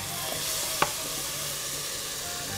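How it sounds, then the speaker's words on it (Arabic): A spoon stirs béchamel sauce in a pan, giving a soft steady scrape over a gentle sizzle and one brief clink partway through. "لازم نضل نحركه مشان ما ينحرق من تحت لانه في حليب"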